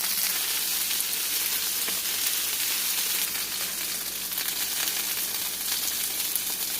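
Chicken sizzles in a hot frying pan with oil, giving a continuous, even crackle and hiss close by that holds steady with no talking over it.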